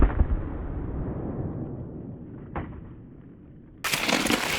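Shotgun fired from the hip at a door with mini buckshot shells: a loud blast that decays into a long rumbling tail, then a second sharp report near the end, heard outdoors.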